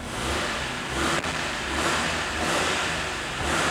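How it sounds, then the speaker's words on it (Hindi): A 2011 Daihatsu Cuore with CNG runs steadily nearby, its small engine humming and swelling in a few mild revs, loud and continuous with no talking. "सो आपने गाड़ी का साउंड आप लोग सुन सकते हो"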